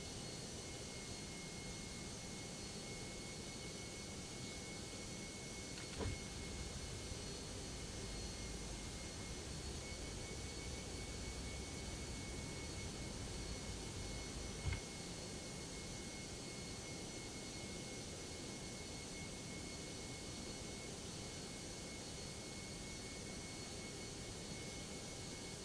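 Steady, distant drone of ToLiss A320 jet engines in X-Plane 12 on final approach to Philadelphia, a constant even roar with a faint tone and two soft clicks, no talking.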